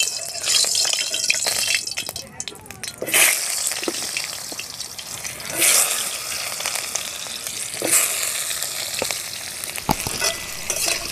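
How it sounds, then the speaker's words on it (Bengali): Potatoes frying in hot mustard oil in a heated wok, a steady close sizzle with bursts of louder spitting and occasional stirring scrapes throughout, no voices. "এবার আমি আলুটা ভেজে নেব"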